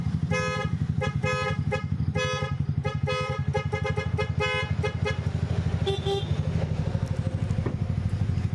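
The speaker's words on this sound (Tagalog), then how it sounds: "ginawa natin siya ng dual horn" Dual horn on a Bajaj motorcycle sounds in a run of rapid repeated toots, then a few separate honks, loud and close over a steady idling engine rumble.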